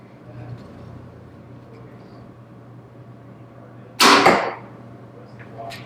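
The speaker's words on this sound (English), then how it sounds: "Now I'm going to shoot it with a decibel meter and see what kind of noise we're getting here." A single APA Mamba 28 MT compound bow shot cracks out sharply inside a shop, one loud release standing alone over a steady low ambient hum.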